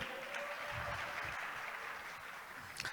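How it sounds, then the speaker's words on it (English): Audience applause at the Africa Tourism Leadership Forum, a steady, fairly quiet patter of clapping from a hall crowd that thins slightly toward the end. "a big round of applause for men"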